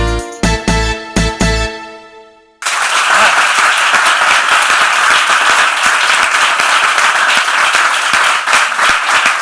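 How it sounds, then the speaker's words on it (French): Studio audience applause bursts in loud and dense after a few seconds of music, sustaining a thick wash of clapping to the end. "je me suis permis en tout cas de faire les applaudissements avec vous"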